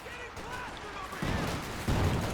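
Gunfire from Company of Heroes 2, with riflemen and rear echelon squads fighting. Two sharp bursts land about half a second apart beneath steady commentary talk, over a low rumbling battle backdrop.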